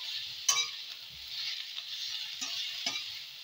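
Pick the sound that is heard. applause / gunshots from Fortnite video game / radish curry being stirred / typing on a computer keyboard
radish curry being stirred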